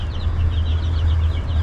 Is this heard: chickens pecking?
yes